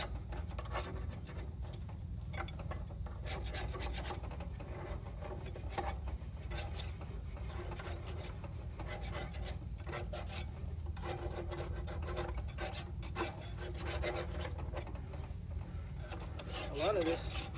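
Loose rust and caked-on food are scraped off a Char Griller grill in a continuous, fairly quiet rasping scrape, steady and close throughout with no talking.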